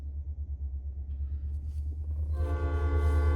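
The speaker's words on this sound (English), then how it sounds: "The train just happened to be coming by as I'm doing this video" A train rumbles past with a low, steady drone that swells louder toward the end, where a sustained horn blast rises over it.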